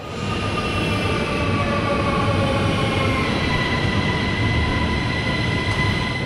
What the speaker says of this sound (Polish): Jestem już w pociągu i sobie jadę do centrum miasta na dworzec główny.